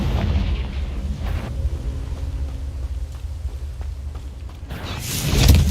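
A Confringo blasting spell in Hogwarts Legacy explodes with heavy low booming rumble, a sustained blast that dips mid-clip before a second, sharper burst swells up loudly at the end.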